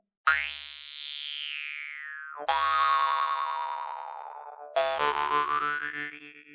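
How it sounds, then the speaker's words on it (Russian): Three long twanging notes on a Yakut khomus jaw harp, each with a sharp attack and a sliding, wah-like resonance that bends and fades, played close with no voices. "у варганов Эдуарда Тарабукина потрясающий, завораживающий, долгий звук."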